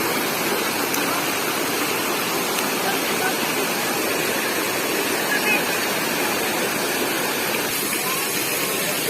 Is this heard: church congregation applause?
no